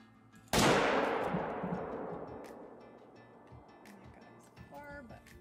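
A single loud rifle shot fired at a cape buffalo in a hunting video game, a sharp crack followed by a long rolling echo that fades over several seconds.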